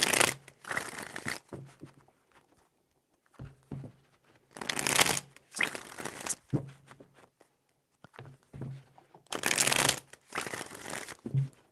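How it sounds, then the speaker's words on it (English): Tarot cards shuffled by hand in three separate bursts of crisp riffling and flicking, close and fairly loud, with quiet pauses between and no talking. "4 shuffles"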